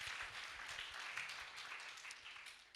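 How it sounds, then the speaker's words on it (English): A church congregation claps for a pastor, a dense, even patter of many hands lasting a few seconds and heard faint, as if from a distance. "Let's clap for Pasi."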